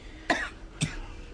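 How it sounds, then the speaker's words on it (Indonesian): Two short, sharp coughs from a sick person, a fraction of a second apart, close by in a quiet room. "Batuk dia."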